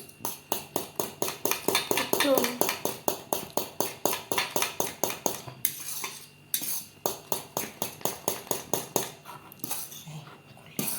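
Spoon rhythmically scraping and knocking against a pot while stirring and breaking up molokhia, steady fast strokes continuing for several seconds with a brief pause, close and clear with no talking.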